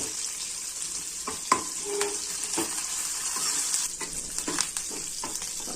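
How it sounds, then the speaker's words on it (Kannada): Mustard seeds, onion and curry leaves sputter in hot oil for a tempering, giving a constant close hiss broken by scattered sharp crackles and pops, with no talking. "ಈಗ ಈರುಳ್ಳಿ ಹಾಕ್ತೀನಿ,"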